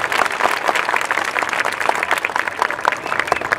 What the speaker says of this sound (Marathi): आपल्यासाठी आणखीन जोरदार टाळ्या झाल्या पाहिजेत